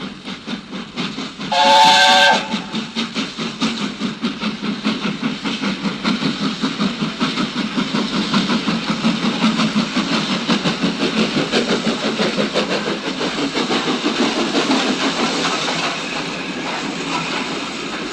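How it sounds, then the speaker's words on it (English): Steam locomotive puffing away as an audiobook effect, a short shrill whistle blast followed by a long run of steady rhythmic chuffs close by, without talk. "Bye, little Edward," said Gordon as he puffed away"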